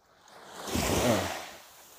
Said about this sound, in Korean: 파도 소리를 좀 들려드리려고